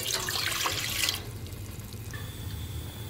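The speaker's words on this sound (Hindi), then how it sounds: "यहाँ पे हम दूसरे पैन में पानी डालेंगे, 2 कप पानी।" Two cups of water pour into a pan while cooking semolina halwa, a short close splashing stream that stops after about a second, followed by faint kitchen background.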